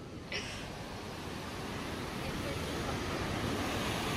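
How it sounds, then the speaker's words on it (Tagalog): Mamquam Falls in Squamish Canyon pouring down, a dense, loud, unbroken roar of rushing water with gusty wind rumble, steady throughout and slightly building toward the end. "We're here at Mamquam Falls in Squamish Canyon."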